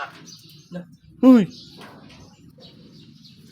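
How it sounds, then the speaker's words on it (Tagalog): A crow at a farm resort gives one loud, harsh call close by, preceded by a shorter faint note, over a low background hum. "Uwak dyan."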